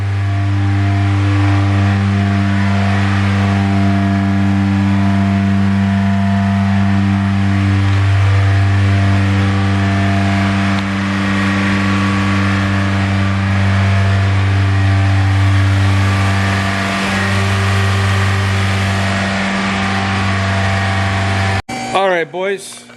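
A 2005 Honda CR-V engine held at a steady elevated rev around 3,000 RPM, a loud continuous droning hum that stays level for over twenty seconds before cutting off abruptly near the end.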